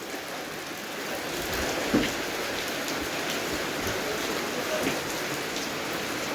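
Rain falling on an asbestos roof, a dense steady patter of drops close by, with a couple of slightly louder thumps and faint voices in the background.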